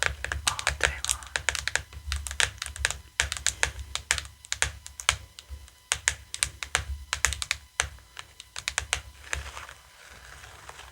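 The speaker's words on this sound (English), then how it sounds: "so I'm constantly typing" Rapid close typing on a computer keyboard at a desk job, a dense run of sharp key clicks in irregular bursts lasting about ten seconds, with no talking.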